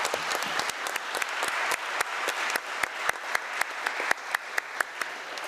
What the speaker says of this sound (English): Please reward her presentation with a round of applause.